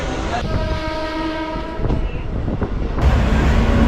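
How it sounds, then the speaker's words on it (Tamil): A Tiruvallur suburban train ridden from Perambur, heard from on board: loud rumbling rail noise with a sustained horn blast, then rattling carriages and rising clatter as the train moves. "இங்கே பெரம்பூரில் நான் ட்ரெயின் ஏறிட்டேன் திருவள்ளூர் வண்டி தான் வந்தது"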